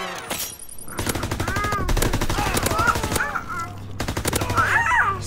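An MP40 submachine gun fires in rapid continuous bursts in a World War II shooter game, loud and close, with a short pause between bursts and other game sounds underneath.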